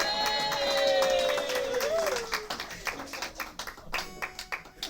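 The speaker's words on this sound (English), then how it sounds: "please give a round of applause on the sound desk" Audience applause at a live show breaks out after a sung note fades, a scattered patter of clapping that grows in distinct bursts toward the end.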